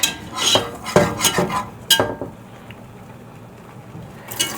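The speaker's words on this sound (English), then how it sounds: "I need to pour this warm milk into here and stir for 5 minutes." Warm milk goes into a pot during a Thanksgiving dinner cook, followed by a spoon stirring and clinking against the pot in a quick cluster of scraping taps, then a quieter stretch.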